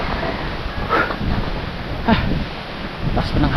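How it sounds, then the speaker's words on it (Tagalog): Strong wind gusts across an outdoor microphone, a steady broadband rush that swells at a few points, with brief voices briefly audible over it. "Lakas pa ng hangin."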